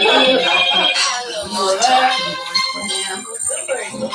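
Mobile phone ringtone playing a bright, repeating melodic tune, loud and close, under overlapping voices at a family holiday gathering.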